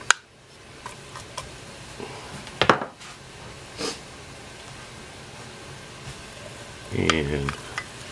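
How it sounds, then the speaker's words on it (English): Steady frying sizzle in a pan of vegetables for Mexican rice, with a few clinks of a utensil and a brief stir; soft hiss throughout, fairly close. "And start to hear the sizzle."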